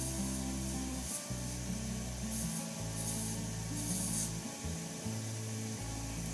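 Sandpaper rubbing against a spinning resin shaving brush handle on a lathe, a steady close abrasive hiss over the lathe's low hum, with short pauses where the paper lifts off.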